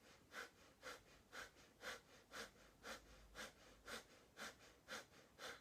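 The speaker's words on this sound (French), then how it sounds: "la respiration du feu est relaxante" Breath of fire yoga breathing: about eleven sharp, evenly spaced nasal exhalations in a steady rhythm, quiet and close, with no talking.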